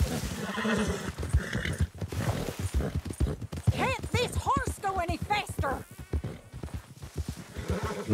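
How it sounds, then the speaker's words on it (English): A horse in the Red Dead Redemption 2 video game gallops with rhythmic hoofbeats and lets out a neigh midway, while someone talks over it. "Can't this horse go any faster?"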